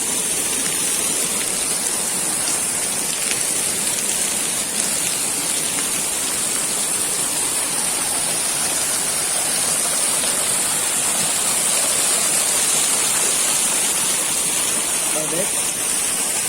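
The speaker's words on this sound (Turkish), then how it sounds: "Burası şelalenin çok küçük bir kısmı. Bir kısmı buradan akıyor." Steady, dense rush of a waterfall in Aladağlar National Park, Yahyalı, Kayseri, a constant broadband roar that holds evenly throughout with no breaks.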